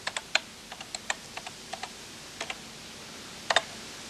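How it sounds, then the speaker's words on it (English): Someone types a command on a computer keyboard to load a tape into a microcomputer, giving a dozen or so sharp, close key clicks in an uneven rhythm with a short pause before a final quick pair of presses. "you'll need to type star tape 3, like this."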